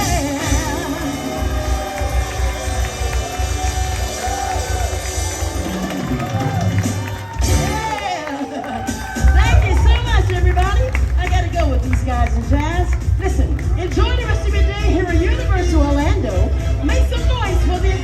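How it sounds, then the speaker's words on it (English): Crowd at a show clapping and cheering over loud live music, a dense, steady roar that surges after a short lull, with a hubbub of voices mixed in. "Everybody clap your hands."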